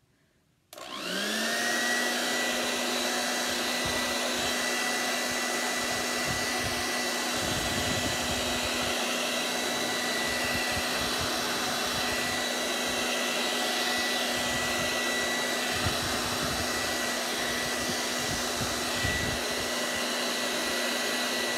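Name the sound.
hair dryer on cool setting drying chalk transfer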